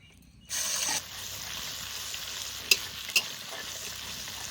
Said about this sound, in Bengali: পেঁয়াজ একটু ভেজে নিয়েছি